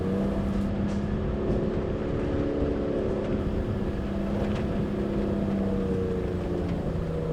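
A 4WD engine labours and revs up steep climbs on a forest track in the high country, a continuous low rumbling drone that swells and eases, with no talk.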